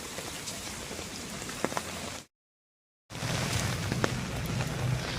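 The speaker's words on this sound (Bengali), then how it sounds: "বৃষ্টি পুরো জোরে পড়ছে" Heavy rain pours steadily in a waterlogged Bengali neighbourhood, a dense constant hiss broken by about a second of silence midway, then resuming with a deeper rumble of water.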